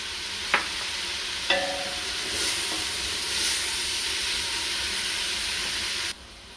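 Mince sizzling and frying in a pan while being stirred, a steady broadband hiss with two sharp scrape or clatter hits near the start, heard alone without talk until it suddenly cuts out.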